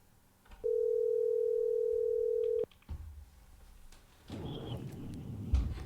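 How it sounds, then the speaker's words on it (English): A telephone dial tone hums steadily for about two seconds while a call is placed, then cuts off, followed by faint clicks and rustling line noise. "let's get him on the phone right now"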